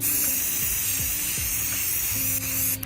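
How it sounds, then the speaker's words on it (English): Steady, close hiss of an aerosol spray can painting a basketball, running continuously, with faint low background noise beneath it. "So I'm gonna spray paint it"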